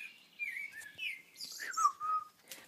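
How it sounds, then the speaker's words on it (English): Birds in a garden whistling and chirping: several clear, sliding whistled notes and brief tweets in short phrases, faint and somewhat distant, with no one speaking. "Birds are whistling."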